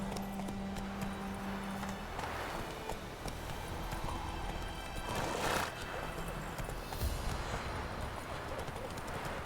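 Roach, Geralt's horse in The Witcher 3 on Nintendo Switch, gallops with rapid hoof clip-clops, a whinny, and game ambience. A player talks intermittently over it.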